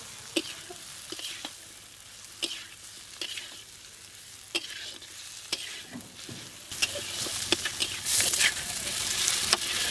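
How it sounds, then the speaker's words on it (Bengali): Dried loitta fish frying in oil with masala, stirred by hand: scattered sharp scraping strokes of a spatula against the pan over a steady sizzle that swells louder near the end, no voices. "এখন ভেজে নিয়ে শুটকি মাছগুলো দিয়ে দেব এখন মশলার সঙ্গে ভালো করে কষিয়ে নেব"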